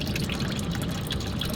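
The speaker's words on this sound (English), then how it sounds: "let the oil drip in here without burning myself" Hot engine oil drips and trickles from a car into a catch container during an oil change, a steady wet patter lasting under two seconds with no talking.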